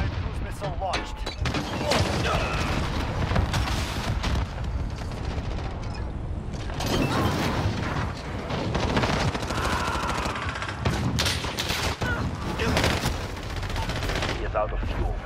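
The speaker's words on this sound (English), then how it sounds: "Allied cruise missile launched." Heavy combat audio from Call of Duty Modern Warfare during a cruise missile strike, with dense gunfire, booming blasts and rumbling impacts sustained throughout, loud and chaotic, with voices in the mix.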